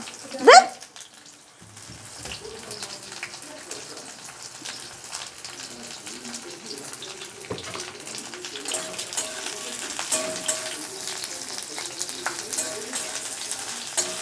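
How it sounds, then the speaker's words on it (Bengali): Thinly sliced teasel gourd (kakrol) frying in hot oil, a steady soft sizzle and stirring after a brief loud clatter at the start, with a dog barking faintly in the background. "কাঁকরোলটা হালকা লাল করে একটু ভেজে নেব।"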